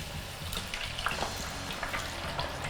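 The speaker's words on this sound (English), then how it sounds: "So we're gonna go ahead and we're gonna add our fries in. Because I'm using a smaller pot, I probably won't add them all at once, and it is gonna sizzle." Potato fries dropped into hot oil in a small pot for beer-battered fish and chips, sizzling with a steady, close crackle and a few sharper pops and stirring sounds.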